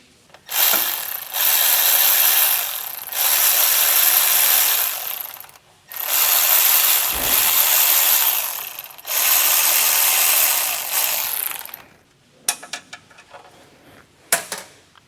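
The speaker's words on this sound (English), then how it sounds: "We're gonna undo these bolts here." Ratchet wrench undoing the five valve body bolts on a Mercedes Sprinter transmission: four long bursts of rapid, close clicking separated by short pauses, then a few scattered clicks and knocks at the end.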